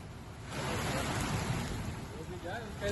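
Torrential rain floods roads in Chamoli, Uttarakhand, making a dense, steady roar that swells after the first half-second and holds, with a voice speaking over it.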